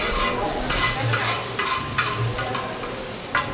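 Onion frying on a disc cooker gets pushed to one side, a continuous sizzle close by with several scraping strokes of a spatula across the metal and a final sharp scrape near the end.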